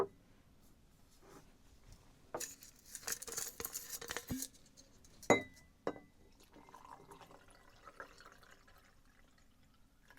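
A glass of water with Lithuanian MRE drink mix being stirred, giving bright clinking and swirling liquid sounds in short bursts, close and fairly quiet, with pauses between.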